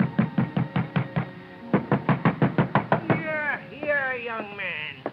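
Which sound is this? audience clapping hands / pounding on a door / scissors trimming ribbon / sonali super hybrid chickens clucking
pounding on a door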